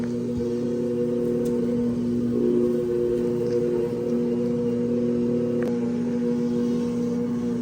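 A machine kneads bread dough on a twelve-minute cycle, giving a steady, fairly quiet motor hum with a constant tone and no talking.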